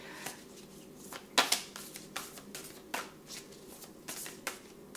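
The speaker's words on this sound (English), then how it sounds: "it's very difficult to shuffle when you have elf-size hands like mine" A large oracle card deck shuffled by hand, with a run of crisp riffling flutters and sharp card slaps at an uneven pace, close and clear, with no talk.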